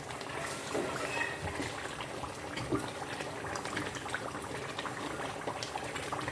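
Tomatoes stir frying in a pot for Nigerian jollof rice give a steady, close crackling sizzle with small bubbling pops, continuous and even throughout with no talking.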